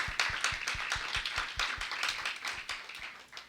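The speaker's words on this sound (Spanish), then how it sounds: "dele fuerte las palmas al Rey de Gloria" A church congregation claps hands in worship at a vigil, a fast, steady rhythm of sharp claps from many people together, loud and close, with no talking over them.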